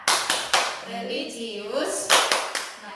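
Classroom hand-clapping chant led by a teacher: sharp claps in quick bursts of three at the start and end, with a voice chanting a list of words between them.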